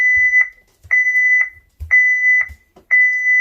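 A Honeywell Lyric security system's entry-delay warning sounds sharp, high electronic beeps repeating in quick pairs, four bursts in a row, with soft thumps between them, loud and close.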